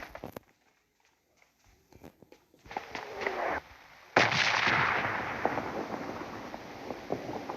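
Video game gunfire: sparse clicks and quiet shuffling give way to sharp close shots, then a loud burst leaves a dense, roaring wash of firing and noise that fills the rest, with no talking.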